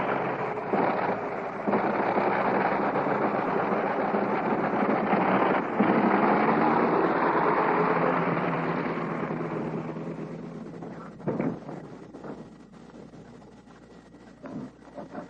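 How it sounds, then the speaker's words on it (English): A World War I airplane with a 425-horsepower Liberty engine taxis away, a broad steady drone that holds loud for several seconds, then fades as it recedes, leaving faint distant rumble. "That was the famous Liberty engine, 425 horses"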